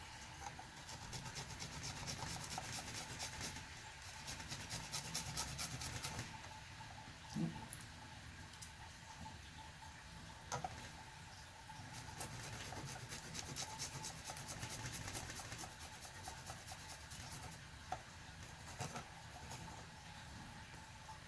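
Food being grated on a microplane grater while making miso ramen, a steady close raspy rubbing that runs continuously with brief pauses and small knocks.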